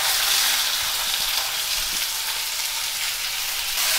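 Chopped onions with cumin sizzle loudly in plenty of hot oil in a cast iron kadhai, a steady dense crackle close up with no talking.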